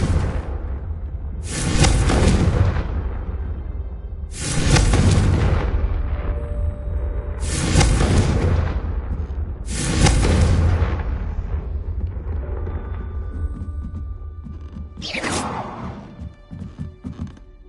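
Confringo blasting-curse explosions from a Harry Potter game go off as four or five heavy booming blasts spaced a few seconds apart, each a loud burst trailing into rumble, with a final sharper bang.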